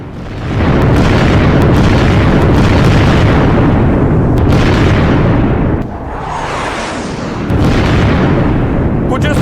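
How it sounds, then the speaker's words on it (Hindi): Heavy explosions from US military missile strikes hitting roads to stop an advancing Iranian army, a dense, continuous roar of booms and blasts that stays loud throughout, dipping briefly before surging again. "अमेरिकी सेना ने देखिए धमाके करने शुरू किए कि ईरानी सेना आगे ना"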